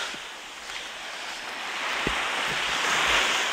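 Waves wash steadily onto an open beach on the Toyama coast, a broad continuous surf hiss swelling toward the end with soft low rumbles of breaking water, wind-touched and without voices.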